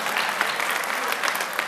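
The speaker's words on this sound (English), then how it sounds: "Okay, you can clap it up." Steady audience applause at a New Mexico State of the State address, a loud, even wash of clapping from a large crowd filling the whole moment.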